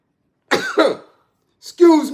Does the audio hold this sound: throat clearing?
yes